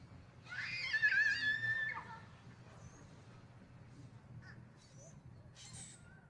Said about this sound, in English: But with all the wildlife, the animals, the birds you can hear.